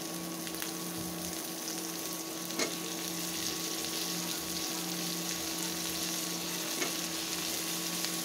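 Potatoes frying in a pan at home with a quiet, continuous sizzle and occasional soft stirring clicks, steady and moderately distant, with no talking.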